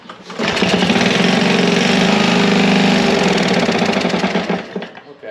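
Small engine on a discarded lawn mower running after a restart, a steady, loud, rapid chugging with a persistent odd noise, close up and alone before it fades slightly at the end.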